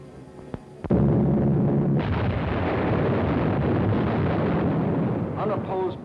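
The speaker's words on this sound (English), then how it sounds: "Unopposed bombing raids sent defenseless civilians fleeing in stark terror." Explosions from a World War II bombing raid on civilians rumble as a dense, heavy roar that comes in suddenly after a few sharp pops and holds loud for several seconds, with faint tones near the end.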